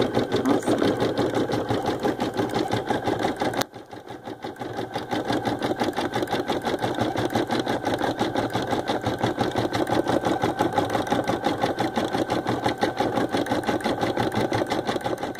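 An Ellure Plus embroidery machine stitches a photo design with a steady, rapid mechanical chatter that runs almost continuously, briefly cutting out once before resuming at the same even pace, close and prominent.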